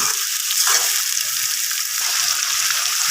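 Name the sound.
chopped chicken liver frying with ginger and garlic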